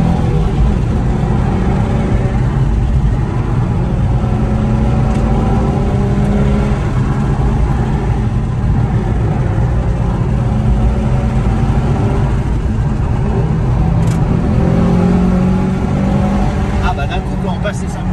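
A Nissan 350Z engine drones steadily from inside the cabin as it pulls hard past 5000 rpm, a constant loud roar with road noise throughout.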